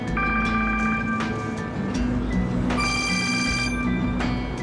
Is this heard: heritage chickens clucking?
no